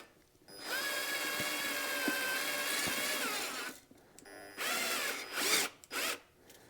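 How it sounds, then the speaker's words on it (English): A power drill bores through a rubber piece on a Massey Ferguson 35 tractor in a dark shed, with a long steady whine followed by several shorter bursts of drilling. "it's easier to just drill it through"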